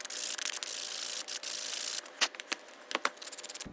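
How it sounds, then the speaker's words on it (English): Sandpaper rubs back and forth across the rough end cut of a wooden end cap, close and alone, first in long continuous strokes, then in shorter choppy scrapes. "Take the time to sand that end cut so it looks more smooth."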